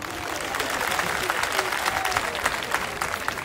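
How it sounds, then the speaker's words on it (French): An audience applauds steadily, a dense patter of many hands clapping throughout, loud and sustained. "Wakili, que je vous demande d'applaudir."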